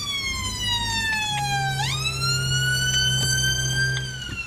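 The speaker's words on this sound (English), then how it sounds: "Oh, I've got an ambulance here." An ambulance siren sounds loud and close at a roundabout, a continuous wailing tone that sweeps down and then back up, with a low engine rumble underneath.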